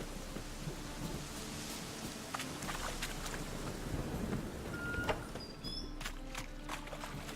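Thunderstorm with rain in The Witcher 3: Wild Hunt, a faint, steady rain hiss under low rumbling thunder, with a few light clicks and sharp game sounds near the end, no talk.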